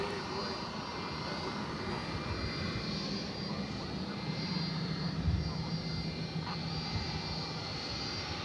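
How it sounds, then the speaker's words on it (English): A Boeing 757 jet flies near DFW Airport at night, a steady distant roar of jet engines continuing throughout with no voices. "I hear a plane in the background."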